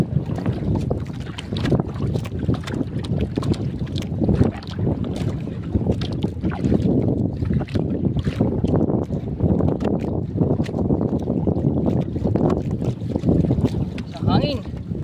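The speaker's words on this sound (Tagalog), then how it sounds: "Hangin." Strong wind buffets a small boat on open water, a loud steady rushing roar with choppy bursts throughout and no clear speech.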